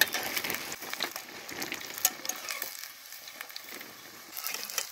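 Three coriander leaf pakora chops fry in hot oil, giving a continuous bright sizzle with crackling pops and sharper spits that swell and fade, and no talking.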